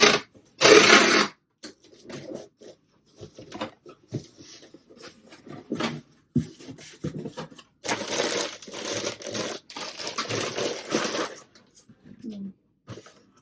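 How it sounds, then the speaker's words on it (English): Bursts of loud ripping and crackling as packing tape is pulled off a roll, coming in irregular stretches between rustles and handling noises. "there's going to be some noise from this tape"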